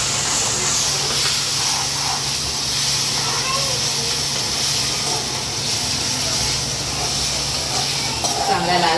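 Ground masala paste dropped into a hot pan for a Kokani crab and chicken dish, giving a loud, continuous sizzle and hiss that holds steady close by.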